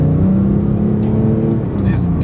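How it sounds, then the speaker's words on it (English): Flat-six engine of a manual Porsche GT3 Touring driving on the road, a loud, steady low drone from inside the car with slight pitch shifts, under someone talking. "let's test it on the road and see how this flat six is working"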